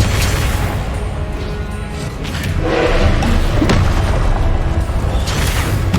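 Confringo explosive spell blasts in the Hogwarts Legacy video game, heavy booming thuds and crackling bursts over continuous loud low rumble, close and dense with no speech.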